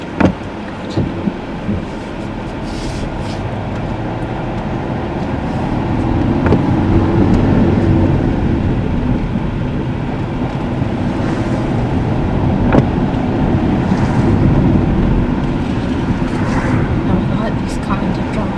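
A car heard from inside while driving along, with a steady engine and road rumble and some wind buffeting under intermittent conversation.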